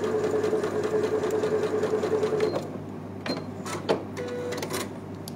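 A sewing machine stitching patchwork fabric runs in a steady fast whir for a couple of seconds, then stops, followed by a few clicks and short mechanical bursts as the cloth is adjusted.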